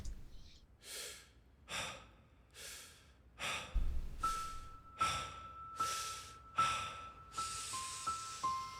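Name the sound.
breathing at start of song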